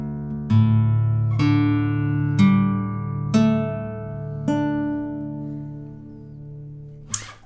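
Acoustic guitar in DADGAD tuning, six separate strings plucked one after another and left ringing, bright attacks fading slowly, close and alone, with a short scrape at the end.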